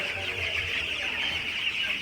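A broiler chicken farm in cold winter weather fills with a dense, continuous chorus of clucking from many birds, steady and fairly loud throughout.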